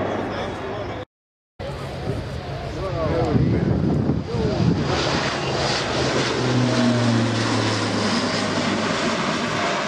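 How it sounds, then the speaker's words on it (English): Airbus A400M military transport taking off and climbing at an airshow, a loud, sustained roar of turboprop engines and propellers building and holding, with a person talking over it. "Now the aircraft reaches a V rotate speed of 135 knots and a turn to the line 40-45 degrees away from the runway."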